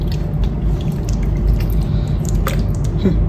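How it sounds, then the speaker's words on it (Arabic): Washed raw chicken pieces are pressed into an orange marinade, giving soft wet squelching and dripping sounds close up, steady throughout with no talk. "هلا رح اخد كل دجاجة وحطها بقلب التتبيلة."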